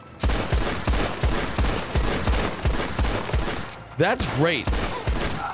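A rapid string of revolver shots fires in Red Dead Online, loud repeated cracks in quick succession with a short exclamation breaking in near the end.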